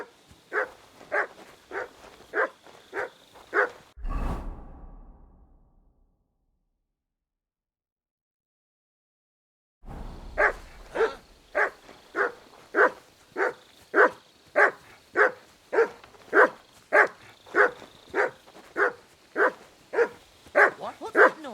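A dog barks in Kingdom Come: Deliverance II in a long steady run of evenly spaced barks, fairly loud and close, broken by a gap of several seconds of silence before the barking resumes.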